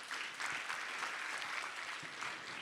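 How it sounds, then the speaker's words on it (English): An audience claps for a panel at a public event, a steady, moderately distant wash of applause from many hands that holds evenly throughout. "A round of applause for them,"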